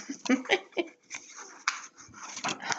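A dog close by makes short whiny sounds and soft pants in a few brief bursts with quiet gaps between them.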